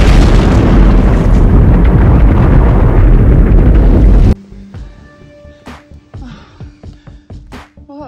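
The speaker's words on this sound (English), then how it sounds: "We think it was a serac that collapsed at the top that came crashing down, sweeping thousands of bullet-like rocks with it" A serac collapses on a glacier on the Eiger, sending rocks crashing down in a loud, continuous roaring rumble that stops abruptly, followed by quieter scattered sharp clacks and knocks.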